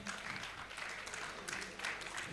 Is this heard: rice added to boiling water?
no